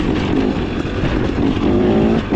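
KTM XCW 300 two-stroke dirt bike engine running on a ride, a loud, steady, close droning roar that holds nearly constant with only slight rises and dips, no talking.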